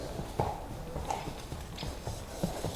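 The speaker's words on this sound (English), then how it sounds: "Some of the founders were certainly riding or trailing horses." Horses walking along a narrow trail, their hooves clip-clopping in a steady, uneven rhythm of soft knocks at middle distance over a constant low outdoor background, with no voices.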